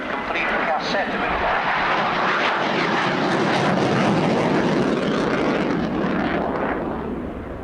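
A military jet flies over the RAF Scampton airshow, a loud, sustained roar that swells and fades, with a voice talking over it.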